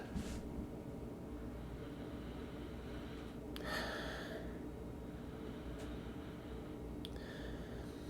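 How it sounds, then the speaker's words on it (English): A couple of short, close sniffs of an imperial stout beer, spaced a few seconds apart, over a steady low background hum. "So let's give it a sniff."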